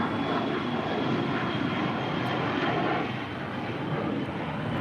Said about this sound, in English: The Dassault Falcon 900EX departing to Teterboro